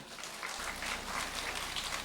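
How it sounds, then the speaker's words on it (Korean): An audience in a church at a mothers' prayer meeting claps steadily to welcome a pastor, a dense, even wash of applause without speech. "목사님 나오실 때 큰 박수로 맞이해 주십시오."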